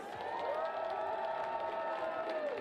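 Crowd at a Gulls baseball game cheering and applauding, a broad continuous roar of many voices with whoops and clapping, held steady and moderately loud throughout.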